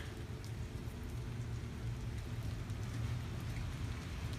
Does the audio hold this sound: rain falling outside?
yes